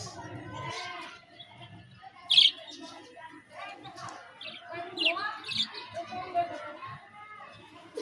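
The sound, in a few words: pet birds chirping in a cage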